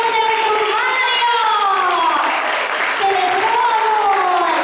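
An audience applauds for a performer at a stage show in the Constantin Brâncoveanu hall of the Senate, loud sustained clapping throughout, while a voice talks over it in a raised, drawn-out tone.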